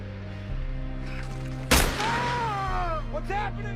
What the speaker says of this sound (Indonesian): Suara tembakan itu justru memicu adu tembak, di mana Mayor Archie tertembak di lengan